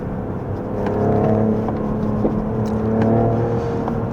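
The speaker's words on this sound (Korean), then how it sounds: "스포츠 플러스에서 확실히 좀 배기음이 커지고 팝콘도 있죠" Close, loud Mercedes-Benz GLE Coupe 53 AMG exhaust in Sport Plus mode revs up twice, the engine note rising and falling, with a few sharp crackling pops between the revs.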